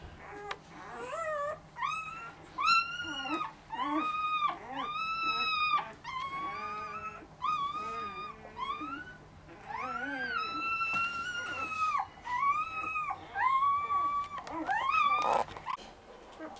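Newborn Bully Kutta puppies, less than a day old, whimper and squeal in a run of high, wavering cries under a heat lamp, close and fairly loud throughout.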